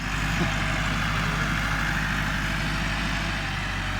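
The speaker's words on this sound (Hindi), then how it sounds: "ज़मीन को पानी के अंदर ट्रैक्टर चलाया जा रहा है" Tractor engine idling and running steadily in a flooded paddy field being prepared for rice, a continuous low rumble held at close range with no voices.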